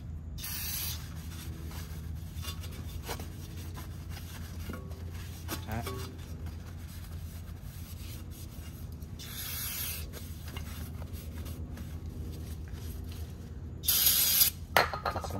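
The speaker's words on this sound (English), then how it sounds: "Towel, brake cleaner." Brake cleaner sprays in short hissing bursts onto brake parts during a rotor and pad install on a 2018-2021 Subaru WRX, three quick spurts over a quiet garage background.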